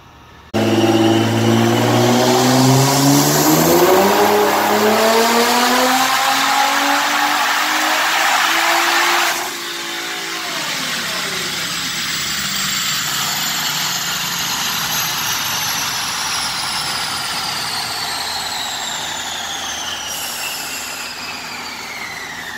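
A 2017 Nissan GT-R NISMO running E85 fuel revs hard on a dyno, its loud engine note climbing steadily in pitch through a long pull before cutting back, then a lower sustained roar with a rising whine.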